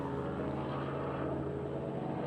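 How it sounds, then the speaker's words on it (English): Helicopters flying overhead in the aftermath of Hurricane Helene, a continuous throbbing rotor drone with a steady pulsing beat, fairly distant and moderately loud, with no talking. "There's some helicopters right there."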